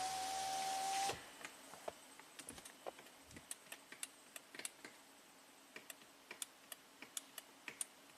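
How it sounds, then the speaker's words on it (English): Small relays click repeatedly inside a 2007 BMW 328Ci convertible, sharp irregular ticks after a loud window motor whir stops abruptly, no talking. "So the relays are clicking."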